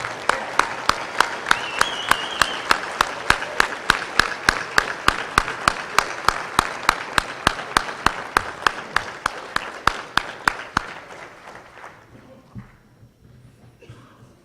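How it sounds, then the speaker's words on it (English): Steady, rhythmic clapping from a seated crowd honoring Hall of Fame inductees at a USSSA induction ceremony, dozens of even claps over about ten seconds, loud and close, then tapering off into quiet room tone. "join me in giving them a very large round of applause"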